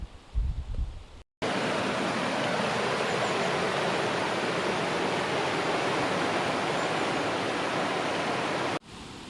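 Loud, steady rushing of river rapids, a dense broadband roar after a brief pause, continuous and close by.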